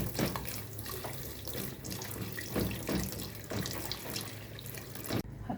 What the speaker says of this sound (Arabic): هنزل بالميه واقلب علشان الدقيق ما يتكتلش معايا